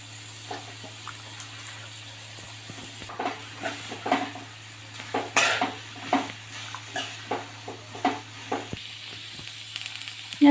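Chopped onions frying in oil in a pan for Kuttanad duck roast, a low steady sizzle punctuated by a regular series of stirring scrapes and clinks, close and without talk.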